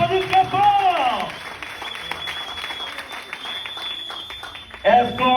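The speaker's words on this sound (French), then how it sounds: "Est-ce qu'on peut applaudir pour les stockistes, les top leaders, s'il vous plaît? On applaudit très fort." Audience applause for the stockists and top leaders at a business affiliation event, a dense wash of clapping under and between a speaker's amplified voice, with talk at the start and end.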